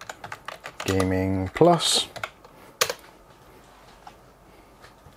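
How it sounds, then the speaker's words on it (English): Crisp clicks of typing on a computer keyboard, a few keystrokes at a time, broken up by someone talking. "So just type in B550"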